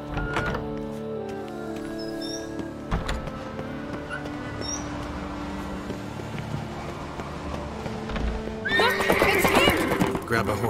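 A horse whinnies and its hooves clip-clop in a video game chase, with voices talking over it. A swell of louder action follows near the end.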